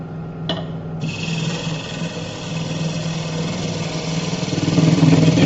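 A wooden bird feeder piece spins on a lathe while a cutting tool shears across it, giving a steady, close rasping hiss over the low motor hum that swells slightly toward the end.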